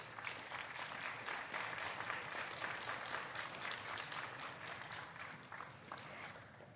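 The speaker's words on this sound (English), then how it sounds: "A round of applause to President Whips." Audience applause at a forum opening ceremony, a dense, sustained wash of many hands clapping at moderate distance with no talk over it.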